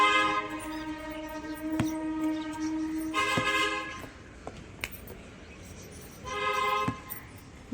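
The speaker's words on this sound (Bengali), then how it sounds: "ওই যে ট্রেন যাচ্ছে" A passing train near a house rooftop, with repeated horn blasts sounding over a distant rumble of rail cars, then the horn sounding again as the train moves by.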